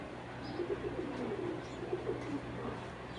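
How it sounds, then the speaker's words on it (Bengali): An army pigeon gives soft, repeated coos close by, faint over a low steady hum, with no talking. "কবুতরটা আর্মি কবুতর যাকে বলে আর কি"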